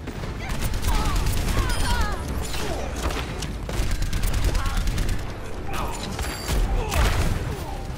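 Rockets firing and exploding in the video game Overwatch, with a quick run of booming blasts and mechanical clatter that keep going under a loud, busy game mix.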